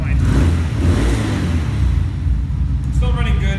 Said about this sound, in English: I'll rev it again just so you hear it.